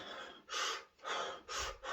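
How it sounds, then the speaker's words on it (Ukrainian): A person takes deep breaths in, four quiet airy inhalations in an even rhythm, close to the microphone with no talk. "Робимо вдох і все."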